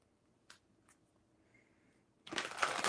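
Tarot cards being shuffled: a few soft isolated flicks first, then a loud rapid riffle of cards close to the microphone at the end.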